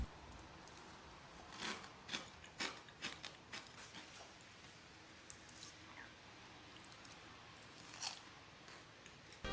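Crisp bites into a crispy, spicy deep-fried vegetable pakora, heard from a few feet away as several sharp, crunchy bites and chews spaced irregularly over a soft background hiss.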